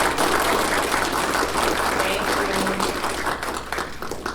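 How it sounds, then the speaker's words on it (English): A crowd applauds steadily, a dense wash of clapping that carries evenly for several seconds before easing slightly toward the end. "So let's give a round of applause."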